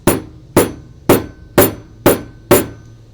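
Hammer tapping a metal rivet into denim jeans: six sharp, evenly spaced strikes about half a second apart, close and loud, each with a quick ringing decay.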